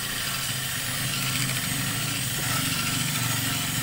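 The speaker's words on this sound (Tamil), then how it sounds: "சேர்த்துட்டு நல்லா மிக்சரில் நல்லா அடிக்கணும்" Electric mixer beating butter and milk for an eggless vanilla buttercream frosting, a steady close motor whir with slight rhythmic pulsing throughout.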